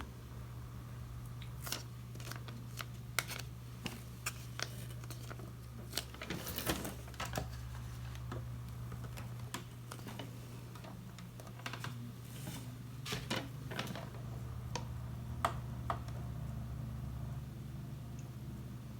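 Cricut cutting machine working through vinyl labels, heard as a steady low motor hum with scattered sharp clicks and taps of varying loudness over about nineteen seconds, with no talking.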